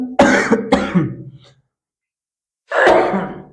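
A man coughs and clears his throat in two bursts, a heavy double cough followed by a pause and another throaty clearing, close and loud, during a lesson on a DC shunt motor with a four-point starter.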